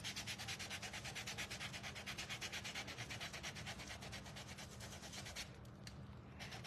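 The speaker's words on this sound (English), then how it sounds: "I'm gonna sand along this line" A wooden piece is sanded by hand in fast, even back-and-forth strokes, producing a faint, steady rhythmic rasp with no talking.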